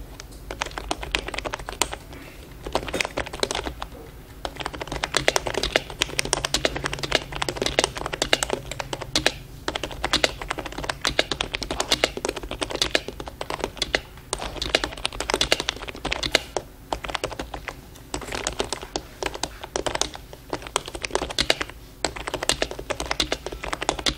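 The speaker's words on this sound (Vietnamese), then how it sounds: "bây giờ mình sẽ gõ một đoạn văn bản cho các bạn xem cái tiếng gõ của con này" Steady, fast typing on an Ice Dragon semi-mechanical keyboard, with loud, close, clacky keystrokes in continuous bursts that go on for over twenty seconds without any talk.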